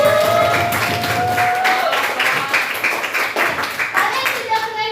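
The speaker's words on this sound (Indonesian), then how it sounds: "Beri tepuk tangan untuk kita semua." A group of students claps together after a session ends, a dense patter of hands that gradually thins and turns uneven, with voices chattering over it.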